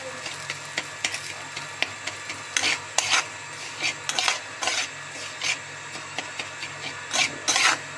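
Semolina frying in ghee for shuji is stirred in a pan, giving repeated scraping, gritty rasps in irregular bursts over a soft background, close by and without speech.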